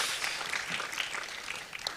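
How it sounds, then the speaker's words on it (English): Audience applause at a sustainable food systems conference session, a soft, diffuse patter of many hands that sounds distant and quiet, filling the room without any clear individual claps. "Let's give him a round of applause."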